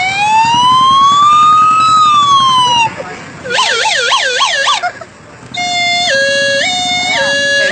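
Street performers' voices mimic wailing ambulance sirens in front of a public crowd, in several rising and falling patterns, loud and close, with a low rumbling hum underneath.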